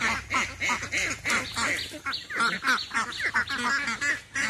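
Domestic country ducks on a chicken and duck farm quack loudly and continuously, with overlapping calls from several birds close by and little pause between them.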